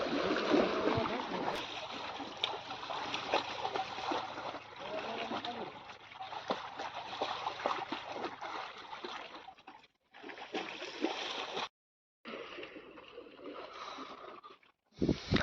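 Water splashes and sloshes steadily as buffaloes move through it, with scattered splatters and brief gaps of quiet near the end.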